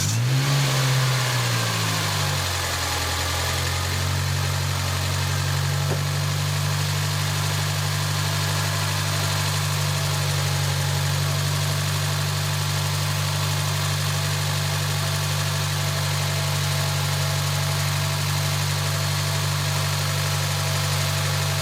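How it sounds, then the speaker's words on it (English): A 2007 Mitsubishi Lancer engine cranks and catches, then settles into a loud, steady idle that drones on without change. "let's start the car"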